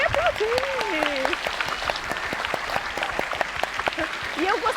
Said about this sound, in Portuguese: Eu gostaria que hoje o áudio pusesse bem alto aplausos para essas mulheres maravilhosas.